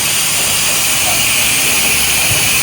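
A pressure spray washer blasts water onto the underside and engine of a raised vehicle, producing a loud, steady, unbroken hiss that continues throughout with no talking.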